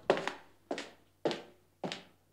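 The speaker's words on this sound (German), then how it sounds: "Wer kratzt denn da an der Tür?" A dog scratching at a door, heard as four evenly spaced dull knocking thumps, close and fairly quiet, with no talking.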